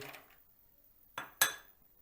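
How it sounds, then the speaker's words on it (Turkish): Hazelnuts tipped into a mixture in a bowl: after a brief rustle, two sharp clinks of nuts and a utensil striking the container, close and fairly quiet, followed by quiet. "Fındıklarımı ekliyorum."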